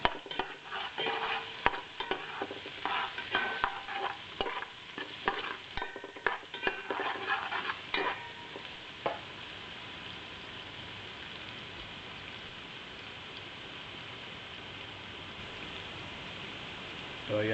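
Ginger, onion and garlic sizzle and crackle in a hot pan as a utensil stirs them in quick scraping bursts, then the frying settles into a steady, softer hiss.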